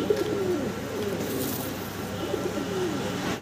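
A jet-black pair of pigeons coos in soft, repeated low calls, close by, over a steady hiss of background noise with no talking.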